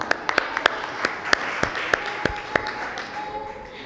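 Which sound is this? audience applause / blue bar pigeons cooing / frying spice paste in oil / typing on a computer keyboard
audience applause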